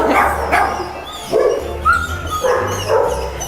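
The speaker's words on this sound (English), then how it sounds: "now we're gonna go visit the dogs, and it's gonna be really noisy" Many dogs at an animal shelter bark loudly and continuously in an overlapping chorus, with repeated yips and bow-wows filling a noisy, echoing space.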